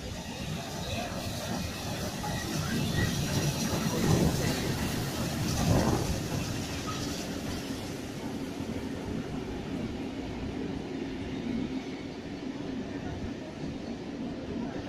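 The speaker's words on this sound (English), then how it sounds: "And passing platform 4 we have steam locomotive" Heritage steam locomotive DC6029 rolls past platform 4 at a Sydney transport heritage expo, a continuous loud broadband rumble and roar that swells mid-pass and stays steady, heard up close with no clear talk over it.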